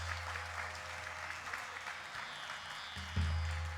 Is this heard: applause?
yes